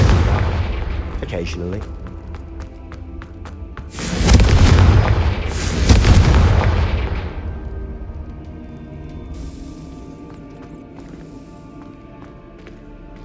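Two loud, booming Confringo spell blasts in Hogwarts Legacy erupt a couple of seconds apart, each with a rumbling tail that fades into softer crackles, amid game sounds and a brief spoken word.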